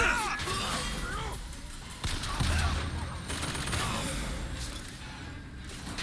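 Rapid gunfire and crashing impacts ring out during combat in BioShock Infinite, a dense, busy barrage of shots and smashes layered over game sounds, with a voice speaking now and then.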